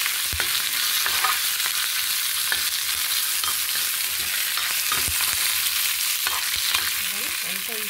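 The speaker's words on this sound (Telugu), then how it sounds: "కరివేపాకు కొంచెం వేగితే చాలండి." Curry leaves fry in hot oil for an Andhra-style okra chutney, crackling and spitting over a steady loud sizzle, with scattered sharp pops and stirring scrapes.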